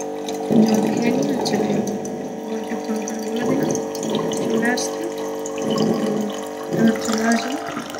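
A kitchen tap runs water for a drink in several short bursts, each starting and stopping a few seconds apart, close by, with a voice in between.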